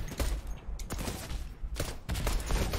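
Rapid bursts of explosive sniper fire launching sticky bombs in Fortnite, with loud, dense gunfire-like blasts that cluster into two or three volleys and keep going across the whole stretch.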